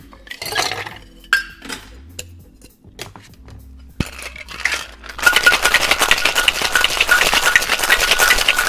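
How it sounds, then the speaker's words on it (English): Cocktail shaker packed with ice being shaken for a three-ingredient drink with lime juice and vermouth: a loud, dense, steady rattle of ice in the final few seconds, preceded by scattered clinks and handling of glass and bar tools. "Add ice to shaker, give it a shake, and you're good to go."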